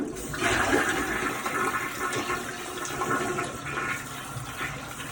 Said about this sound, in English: We're gonna show you a demonstration of how she flushes.